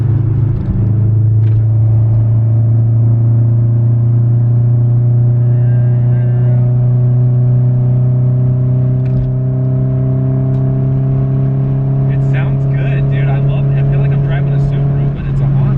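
A 2000 Honda Civic Si EM1 engine hums loud and steady from inside the cabin, its pitch shifting slightly with rev changes during a downshift, over constant road rumble.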